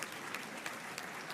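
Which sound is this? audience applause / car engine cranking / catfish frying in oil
audience applause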